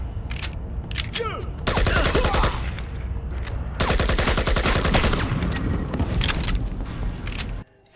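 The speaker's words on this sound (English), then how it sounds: "Sometimes, while shooting, you can even hear the bullets whizzing through the air." Loud automatic gunfire from the video game Project IGI in long, rapid bursts separated by short pauses, with sharp single shots early on and a brief drop to near silence at the end.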